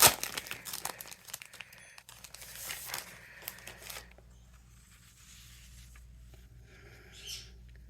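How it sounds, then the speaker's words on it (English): Origami paper from Daiso being handled close by, with dense crinkling and rustling in bursts for about four seconds, then quieter shuffles and one more brief crinkle. "This is the paper I got at Daiso, the origami paper."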